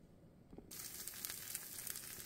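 A folded tortilla with pulled pork, onions and mozzarella drops into a frying pan and starts to sizzle, a faint crackling hiss that builds steadily and continues alone.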